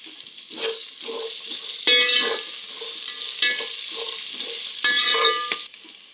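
Curry leaves and green chilies crackle and sizzle in hot frying oil for a Marathi bhadang snack, a steady spatter with two louder bursts as more leaves hit the pan, no voices.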